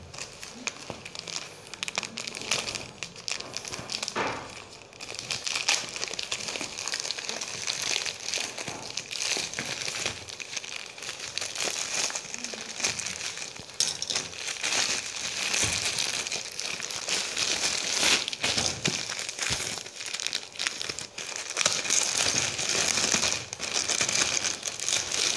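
A plastic-wrapped pack of branded kids' clothing being opened at a trade expo, with continuous close crinkling and rustling of plastic, occasional sharper tearing crackles and handling noise throughout.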